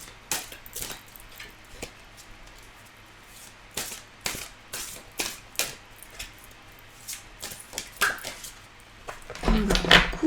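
Tarot cards are mixed by hand, making soft, irregular close flicks and slaps of card on card across the stretch, ending in a louder rustling handling burst, with no speech.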